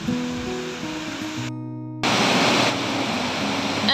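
Waterfall in heavy rain on a Tasmanian valley hike, a loud steady broadband rush of falling water with a brief gap before resuming stronger.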